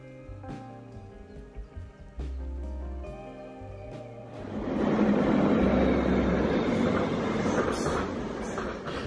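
A double-headed train hauled by two Austrian class 1144 electric locomotives at Payerbach-Reichenau station builds from quieter rumbling and tones into a loud, sustained roar of passing rail traffic, with no talking.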